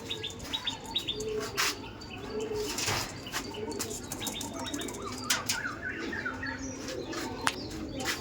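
Madras pigeons in flight, wings flapping in repeated bursts alongside chirps and soft coos from nearby birds, moderately close with a busy outdoor background.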